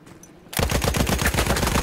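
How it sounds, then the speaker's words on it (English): Rapid gunfire in Battlefield 1 bursts in after a quiet moment, a loud, close string of evenly spaced shots that continues to the end. "I shot that fool."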